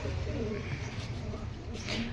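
Pet pigeons in a backyard loft coo softly amid a steady background hum, low murmuring calls running throughout the short stretch.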